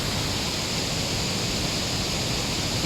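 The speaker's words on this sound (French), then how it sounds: "il y a une cascade." Waterfall on a mountain road trip in Vietnam, a steady, dense rush of falling water that holds even and unbroken throughout, fairly close, with no voices.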